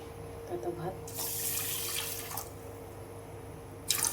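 Tap water runs steadily into a kitchen sink while one cup of jeera rice is rinsed, a broad rushing wash that swells from the middle onward, with a splash near the end and someone talking over it.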